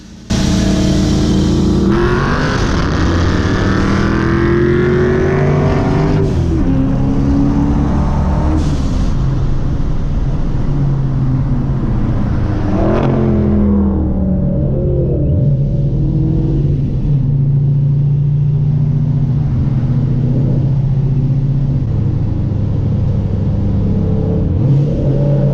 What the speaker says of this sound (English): I usually just wait for their exhaust note to start kicking up